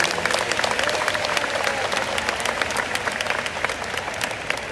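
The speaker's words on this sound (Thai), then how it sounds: "ขอให้ทุกคนปรบมือให้โยมพี่สาวของพระอาจารย์หน่อย" An audience at a mindfulness teaching session led by a monk applauds, a sustained dense ripple of many hands clapping at steady volume throughout, with no voices standing out.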